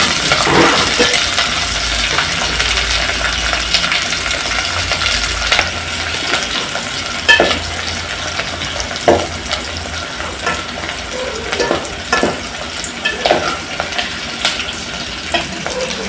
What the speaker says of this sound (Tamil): இதெல்லாம் கொஞ்சம் ஃப்ரை பண்ணிக்கலாம்.